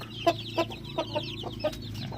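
A native hen sitting on Muscovy duck eggs gives a series of short, evenly spaced clucks, about six sharp calls over a quiet farmyard background.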